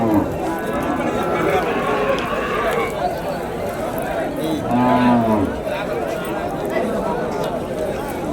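Native cows with turmeric-smeared horns low at a busy cattle market in Vaniyambadi, one long moo rising clearly over constant crowd chatter and people talking nearby.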